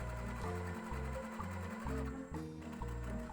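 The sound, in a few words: sewing machine stitching zigzag seams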